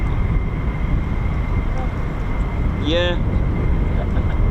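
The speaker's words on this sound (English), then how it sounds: "yeah, that thing was an F-15" A USAF F-15 fighter jet flies near RAF Lakenheath with a broad, steady roar at a distance. A voice speaks briefly over it.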